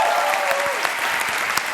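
Audience applause for three competition finalists at a world championship final, a dense steady wash of clapping lasting under two seconds, with a faint voice briefly audible near the start.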